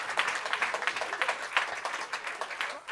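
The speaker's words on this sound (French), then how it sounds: "Et ça s'applaudit, messieurs, dames." Comedy club audience applauding steadily, a dense wash of many hands clapping at an even, fairly loud level throughout, with no talk over it.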